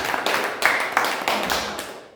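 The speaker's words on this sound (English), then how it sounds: "A big round of applause for Team C." A small room of Toastmasters club members claps for a winning team in a short, uneven burst of hand claps, several distinct strikes that thin out and stop.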